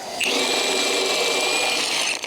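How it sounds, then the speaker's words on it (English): A Milwaukee impact wrench runs at full power for about two seconds, giving a loud, steady, high-pitched mechanical whir with no talking. "The impact wrench has enough torque"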